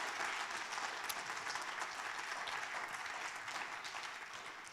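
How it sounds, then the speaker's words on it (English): An audience applauds at an awards ceremony, a continuous and fairly soft wash of many hands clapping that tapers slightly toward the end. "So give yourself a round of applause."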